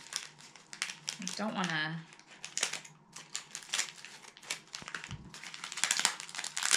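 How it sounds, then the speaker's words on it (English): Paper wrapping from mailed parcels crinkles and crackles close up while being handled and unwrapped, rustling steadily throughout, with a person speaking briefly over it. "I'm sure the sound of the paper isn't that great"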